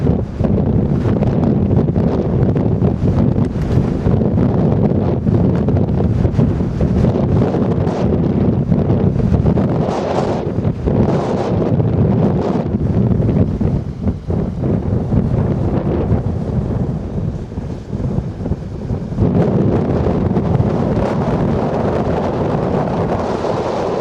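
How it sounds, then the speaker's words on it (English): Strong mountain wind batters the microphone on Army Pass near Williamson Bowl, a continuous heavy low rumble with surging gusts for the whole stretch, no voices heard. "Windy."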